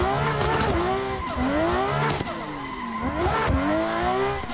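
Tires squeal and skid in a rainy racing video game driven with a Thrustmaster T300 GT Edition wheel, long wavering screeches sliding up and down over a loud engine roar, several slides in a row, with no talk.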